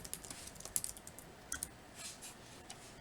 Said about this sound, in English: Then I'm going to type in free to fly.